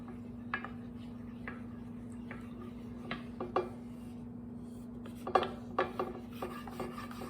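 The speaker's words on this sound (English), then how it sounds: "So I'm just going to go ahead and stir until it looks about right." Spoon stirring yeast in a bowl to dissolve it for white bread, a quiet, irregular series of scraping clicks and taps against the bowl over a steady low hum.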